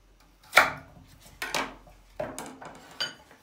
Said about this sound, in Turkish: Hemen patateslerimizi doğramaya geçelim.